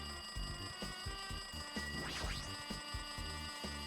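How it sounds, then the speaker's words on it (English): A telephone rings in a video game, sounding as a repeated electronic trill in short bursts over a faint steady tone and soft background noise. "it looks like the phone is ringing"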